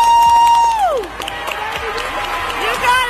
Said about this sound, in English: But this crowd cheered her on while she gathered herself.